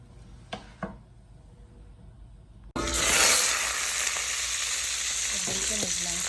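Bacon dropped into a hot soup pot for butternut squash soup bursts into loud, steady sizzling and frying after a quiet start with a couple of small knocks.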